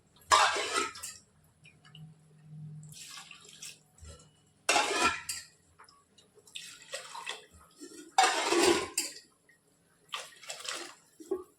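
Water pours and splashes into rice in several short bursts separated by quiet pauses, close by and fairly soft.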